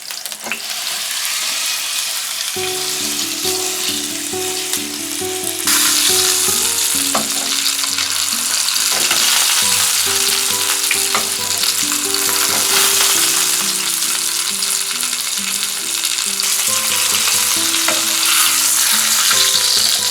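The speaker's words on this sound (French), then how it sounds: "Je fais colorer mon agneau pendant 3 minutes sur chaque face." Lamb sears in olive oil in a very hot pan with a loud, steady frying sizzle that lasts the whole stretch. Occasional utensil clinks and scrapes sit over it, and no one speaks.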